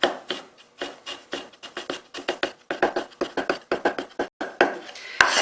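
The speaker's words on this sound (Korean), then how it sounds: "얘를 곱게 이제 썰어줄 거예요." Knife slicing ginger finely on a cutting board while preparing Chinese boiled dumplings, giving a steady run of crisp, close chops with brief pauses between strokes.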